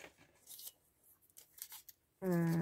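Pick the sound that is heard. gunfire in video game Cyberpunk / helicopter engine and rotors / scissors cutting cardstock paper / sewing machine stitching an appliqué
scissors cutting cardstock paper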